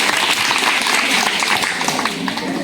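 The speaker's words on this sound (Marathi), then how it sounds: "छान छान टाळ्या वाजवा तुमच्यासाठी" A crowd of young students at a school talk claps together in steady, dense, close applause that fills the whole moment without pause.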